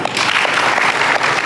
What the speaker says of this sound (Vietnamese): Dành một tràng pháo tay để chào đón năm quý cô ngày hôm nay của chúng ta.